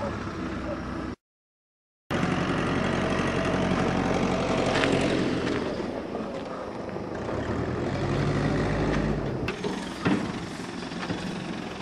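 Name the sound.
old fighter planes flying overhead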